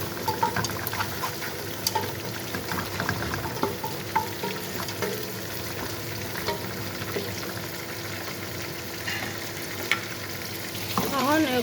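Onions and spices frying in a pan while cooking an Ethiopian dish, a steady close sizzle with stirring scrapes throughout, no talking.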